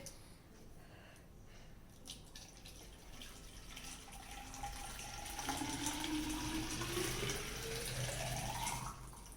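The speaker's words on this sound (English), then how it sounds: "We will put in this can lots and lots of hot water." Hot water poured into a can for a colour reveal Barbie, a continuous splashing pour whose pitch rises steadily as the can fills, close and moderately loud.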